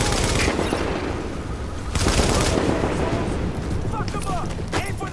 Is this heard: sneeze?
no